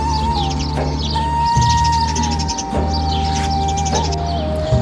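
Sparrows chirp in village trees in the UAE, giving repeated bright tweets in short bursts over a steady low hum and a continuous whining tone, with no voices.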